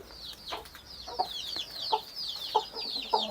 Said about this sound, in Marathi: हे इकडे पण 2 कोंबडे आहेत